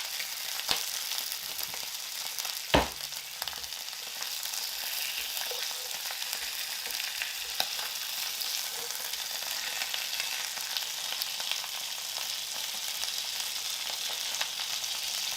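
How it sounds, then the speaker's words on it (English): Grease spatters and sizzles loudly as chicken fries for mole roja, a dense continuous crackle with scattered sharper pops and a clunk early on, close up and without talk. "I feel like this is spattering grease all over me here."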